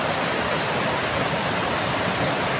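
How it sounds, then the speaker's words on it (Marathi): A large flow of rainwater rushing below a house in the Konkan during heavy monsoon rain, a loud, dense, continuous roar like a torrent, close by and steady with no voices. "हे बघा काय ते पाणी येते मोठं."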